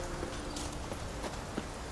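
Hooves of the horse Roach from The Witcher 3 video game clip-clop in a steady walking rhythm, close and fairly quiet, with faint background ambience and no talk.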